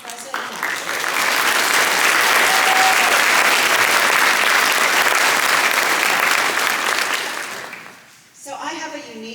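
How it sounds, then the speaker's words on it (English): A large audience at a hooding ceremony in an auditorium breaks into loud, sustained applause that swells and holds for several seconds, then fades as a speaker begins talking. "Could we give another rousing round of applause for everyone present?"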